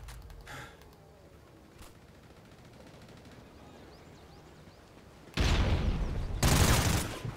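Gunfire from a pistol in the Call of Duty: Ghosts game on Xbox One, in a Cranked multiplayer match: two loud bright bursts near the end, each lasting about a second, after a quieter stretch of low game noise.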